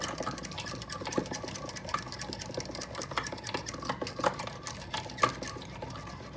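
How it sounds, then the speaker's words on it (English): Eggs are beaten together in a bowl with quick, rhythmic clicking taps of a utensil against the sides, close and fairly quiet, with a faint liquid slosh under the strokes. "You just beat some eggs well together."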